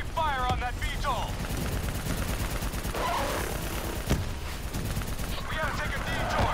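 Gunfire in the Black Ops 3 campaign: dense bursts of automatic weapons and explosions rumble continuously under shouted combat voices.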